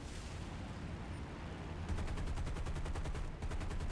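Heavy .50 caliber machine guns on a PBJ-1H bomber in War Thunder fire at anti-aircraft guns, a rapid rattling burst starting midway that runs loud and steady over a constant engine drone.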